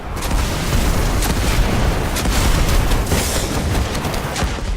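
Continuous heavy Scorch Cannon fire in Destiny, a dense run of booming blasts that fill the whole stretch loudly with no pauses.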